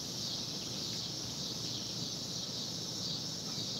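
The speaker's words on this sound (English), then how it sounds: "listen to the cicadas." Cicadas buzzing outdoors in nice weather, a constant high, shimmering drone that fills the whole stretch with no pauses and no voices.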